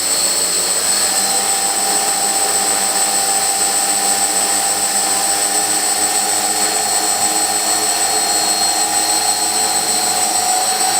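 Hexacopter drone rotors spinning at about half throttle indoors, a loud steady whine and rushing hum that holds without a break, with no voices.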